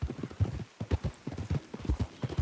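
Horse hooves trotting in Red Dead Redemption 2, a steady rhythmic clip-clop of repeated hoofbeats, close and clear with no talk.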